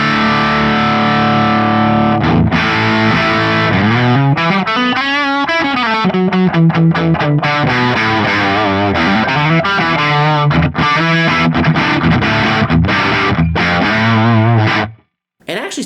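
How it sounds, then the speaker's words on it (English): Heavily fuzzed electric guitar through a Dallas-Arbiter Fuzz Face model on an Axe-Fx III plays a wavering, sustained line with thick distortion, loud and saturated, stopping abruptly near the end. "you get kind of an overwhelming fuzz kind of sound"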